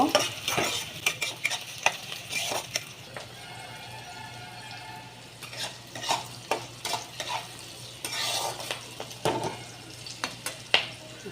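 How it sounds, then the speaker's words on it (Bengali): Onion frying in oil for an egg curry, a steady sizzle with frequent scraping stir strokes of a utensil against the pan throughout, close and moderately loud, with no talk. "পেঁয়াজটাকে একটু ভাজা করে নেব।"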